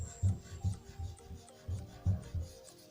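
An eraser rubs back and forth across paper in soft, rhythmic strokes, close and quiet, with a faint hum underneath.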